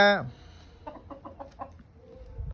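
A farmyard hen in Punjab gives a quick run of close, clipped clucks, preceded by a short squawk, with faint background noise between the calls.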